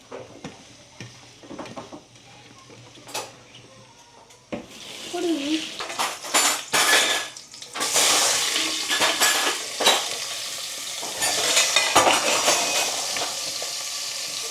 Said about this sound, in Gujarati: હવે એનું વઘાર મેં રેડી કરી નાખ્યું છે તપેલામાં, રાઈ જીરું અને બધું. તો હવે ડાયરેક્ટ તેમાં નાખવાના છે કારેલાને